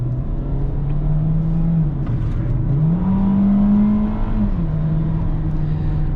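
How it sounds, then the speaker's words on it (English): A 2018 Hyundai Kona SE AWD's 4-cylinder engine in sport mode, droning steadily up close from inside the cabin, its pitch climbing as it revs higher, holding, then dropping back. "you can definitely hear how noisy this engine is"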